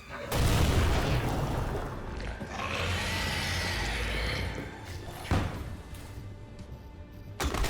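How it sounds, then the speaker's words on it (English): A grenade blows up in the horror game Amnesia The Bunker, a deep booming blast followed by rumbling debris and a second burst, heavy thuds and crashing noise that fade into a low, tense background. "the double explosion basically acted as a dinner bell for the monster"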